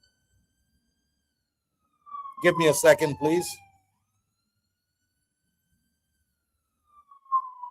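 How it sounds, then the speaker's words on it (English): An ambulance siren passes through a city in El Salvador, its tone sliding downward under a short burst of speech, then returning faintly at the end. "there's an ambulance going by"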